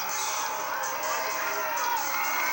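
A large outdoor crowd in Madras, Oregon cheers and whoops as the sun reappears during a solar eclipse. It is a sustained, distant wash of voices, with scattered shouts rising above it.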